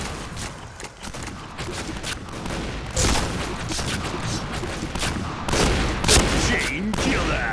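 Shotgun fire in the online shooter Point Blank comes as sharp, loud blasts spaced a second or so apart amid dense game effects and bursts of other gunfire, close and punchy.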